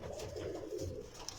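Pigeons cooing steadily at close range, a soft, low, continuous murmur of overlapping coos with no talking.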